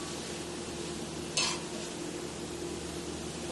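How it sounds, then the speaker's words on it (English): Sloppy joe meat seasoned with Memphis barbecue rub being stirred in a pan with a wooden spoon, a steady low sizzle and scraping throughout, with one brief brighter scrape partway through. "I really should be using my wooden"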